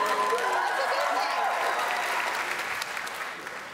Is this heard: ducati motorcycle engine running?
no